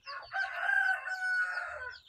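Basilan breed rooster crowing once on a Filipino poultry farm, a single sustained cock-a-doodle-doo of about two seconds, clear and alone with little background noise.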